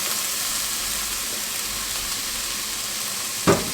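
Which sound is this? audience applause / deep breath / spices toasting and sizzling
spices toasting and sizzling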